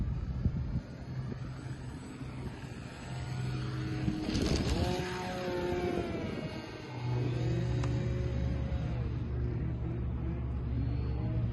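An RC P-51 Mustang model airplane in flight gives a steady tonal motor whine that rises and falls in pitch as it passes, moderately loud over outdoor background noise.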